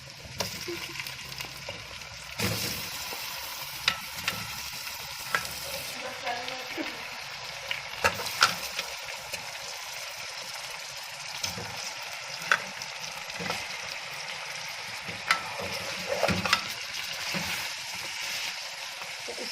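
Chicken pieces frying in a pan with garlic and ginger for a chicken karahi, making a loud, close sizzle broken by repeated stirring scrapes and clatters of a spoon against the pan.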